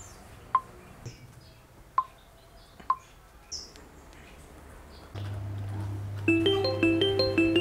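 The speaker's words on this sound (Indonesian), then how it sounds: "aku telepon Bang Tama aja" Telephone dialing on a mobile phone, a run of rapid tonal beeps near the end following a low steady hum and a few sharp isolated clicks earlier, close and fairly clear with no talking.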